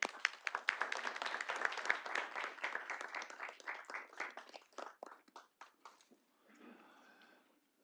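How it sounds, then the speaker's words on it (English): A crowd of audience members applauds at a City of Little Rock Board of Directors meeting. The brisk, dense clapping starts at once, thins into scattered claps and fades out after about six seconds, leaving a soft murmur behind. "Let's give everybody a round of applause."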